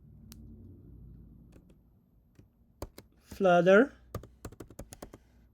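Computer keyboard typing on a Mac: a short run of crisp key clicks, briefly interrupted by a spoken voice, then more quick taps close to the microphone.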